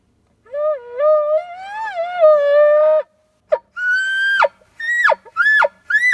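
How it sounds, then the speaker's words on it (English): A young bull elk bugles close by: a long, wavering whistle first, then a string of shorter rising, squealing calls with brief gaps, alone with no talk. "The bull just bugled on his own."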